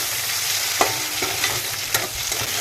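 Frying in a pan, likely the start of an eggplant dish, gives a steady broadband sizzle with a few sharp stirring scrapes of the spatula against the pan. No one talks.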